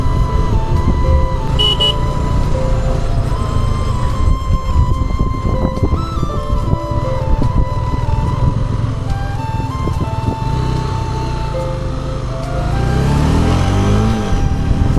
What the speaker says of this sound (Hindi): बाइक की एग्जॉस्ट की आवाज़ और हवा का रश एकदम ही एडवेंचर वाली फीलिंग दे रहे हैं।